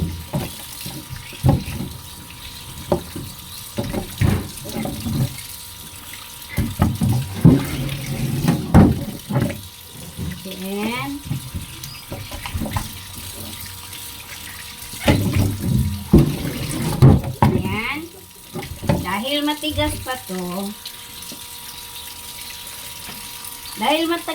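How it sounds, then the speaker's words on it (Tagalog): Tap water runs over beef being washed in a home kitchen sink, continuous splashing and gurgling with intermittent handling noises, while someone talks over it. "Ayan, hugasan natin mabuti ang karne"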